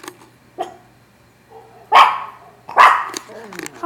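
Recorded dogs bark in a few separate bursts, sharp and fairly close, with quieter gaps and softer yips between the louder barks.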